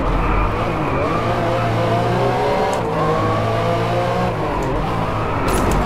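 Ferrari F50 racing in the DriveClub video game, its loud engine revving hard with a steady, rising then settling drone and shifting pitch, no one speaking over it.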